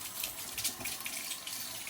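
Tap water runs steadily into a sink during handwashing, a continuous close hiss and splash with no talking over it.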